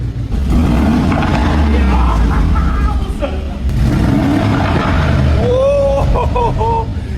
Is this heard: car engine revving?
yes